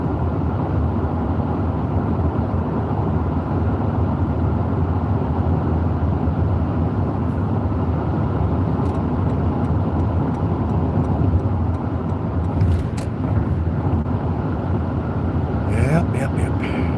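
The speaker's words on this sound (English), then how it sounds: "Got some cars coming. Cars are coming in." Steady roar of passing cars on a road heard from inside a moving vehicle, a continuous loud rumble with traffic approaching, while people talk over it.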